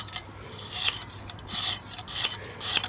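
A knife blade is drawn across a stone on a sharpening system, giving short, scratchy rasping strokes in an uneven rhythm, close and fairly quiet, with brief pauses between passes.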